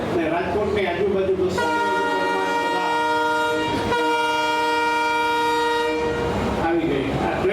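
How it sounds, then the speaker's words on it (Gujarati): A Haridwar-bound passenger train arriving at Rajkot sounds a long, loud sustained horn over the rumble and clatter of wheels on track, the tone holding for several seconds before fading as the cars roll past. "આવી ગઈ આ ટ્રેન જાય અને હરિદ્વાર વાળી છે"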